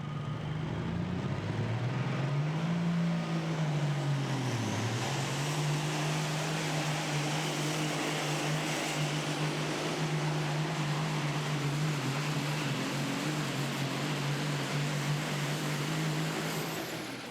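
A hot rod semi truck pulls a sled at a truck and tractor pulling event in Indianapolis, its engine roaring loud and steady for the whole stretch, pitch dipping briefly then holding a sustained drone.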